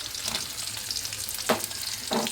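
Cashews and chopped shallots fry in a pan for a sweet payasam, making a gentle steady sizzle broken by a few sharp scraping stirs.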